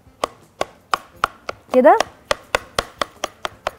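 A knife chops roasted eggplant on a cutting board for baba ghanoush, with about a dozen sharp, evenly spaced knocks close up and a brief spoken remark in the middle.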